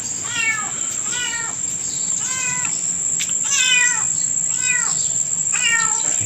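A cat meows repeatedly outdoors, with about six short rising-falling calls spread evenly over the stretch, fairly close and clear above a steady high-pitched insect-like drone and faint background hum.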